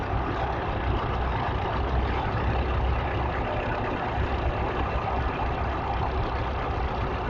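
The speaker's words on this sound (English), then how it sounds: "But that engine on that Caterpillar sounds really nice actually." A Caterpillar D2 crawler tractor with a large plough attached runs steadily at a steam rally, giving a continuous, even engine rumble at moderate distance with no talk over it.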